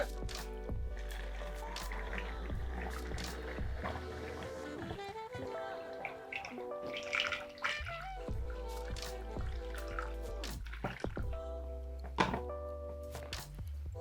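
Water sloshes, trickles and drips as a container is rinsed out repeatedly, with squishy liquid sounds over a steady tonal hum.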